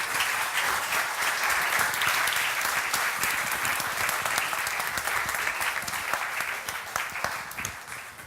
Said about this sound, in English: please a big applause to him